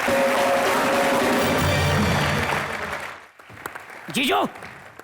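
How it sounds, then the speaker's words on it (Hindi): Loud applause from a television comedy show studio audience fills the first three seconds, then fades as a voice speaks, ending with a brief rising whistle-like sound. "एक बार जोरदार ताली"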